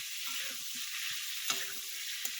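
Ginger paste frying in a pan gives a steady, broad sizzle with a few soft stirring scrapes and a light clink near the middle, close up and with no talk.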